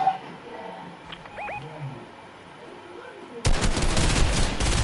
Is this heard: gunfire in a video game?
yes